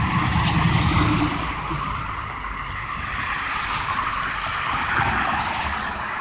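Steady traffic noise of cars driving through downtown Los Angeles, a continuous loud wash of engines and tyre roar with no pauses, slightly stronger at the start.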